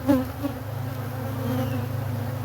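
Honeybees buzz steadily and close from an open Layens hive with frames heavy in brood, a dense, continuous droning swarm hum that holds level throughout with no voices.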